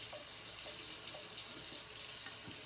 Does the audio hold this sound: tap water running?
yes